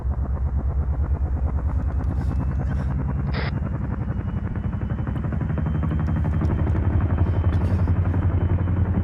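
A helicopter runs outside in an ARMA game, giving a loud, steady rotor chop with a deep, continuous pulsing drone that holds through the whole stretch, with a brief click and faint high sounds above it.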